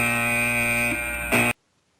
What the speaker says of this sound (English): That's a different type of buzzer.